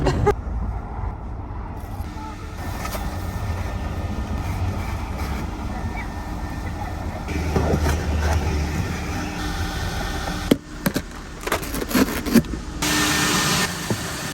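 A vacuum cleaner runs steadily inside a car during an interior clean, a continuous whirring drone that holds for most of the stretch, broken near the end by a few knocks and shuffles as the nozzle moves about.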